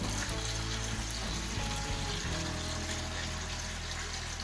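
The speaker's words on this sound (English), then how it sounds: "Instant siphon." Aquarium water siphons through a hose into a bucket while a Tanganyika cichlid tank is set up. The flow is a steady, continuous rushing and trickling at moderate volume, with no speech over it.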